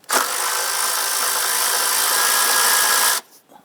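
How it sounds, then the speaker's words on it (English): A power tool whirs continuously for about three seconds while loosening a 10mm nut on the lower intake manifold of a 2011-2021 Jeep Grand Cherokee 3.6L V6, starting abruptly, holding a steady loud pitch, then cutting off sharply. "we have a 10mm nut. I want to go ahead and loosen and remove that."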